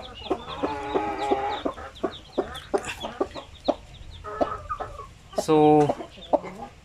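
A Basilan hen clucks repeatedly in short close bursts while her newly hatched chicks peep softly around her, with a brief louder call near the end and a voice speaking briefly.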